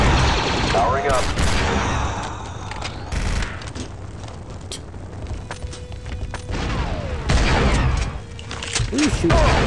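Dense blaster and rifle fire rattles in rapid bursts during a Star Wars Republic Commando battle, with booms and mechanical clanks mixed in, loud and close throughout.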